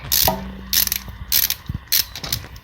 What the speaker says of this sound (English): So I'm just loosening. This is the pinch bolt.